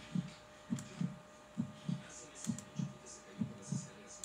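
A steady heartbeat sound effect in the Roblox video game thuds in regular paired beats, low and muffled, about eight beats across a few seconds, with faint higher sounds behind.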